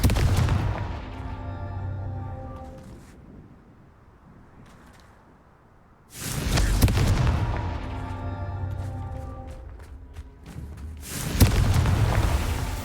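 Confringo spell blasts from Hogwarts Legacy: loud booming explosive bursts with crackling debris, one heavy volley at the start, a second surge around six seconds and another near the end, with quieter rumbling gaps between.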